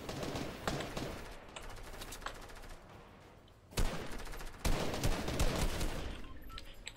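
A compact SMG rattles off fast automatic bursts in a video game, steady chattering fire with a couple of sharper, louder volleys partway through.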